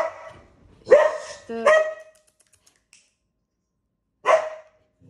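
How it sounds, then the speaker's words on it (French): Dogs bark in a few sharp, loud bursts, with a short double bark near the start and another single bark after a pause, close by, while someone speaks faintly in the background. "je suis désolée pour les chiens"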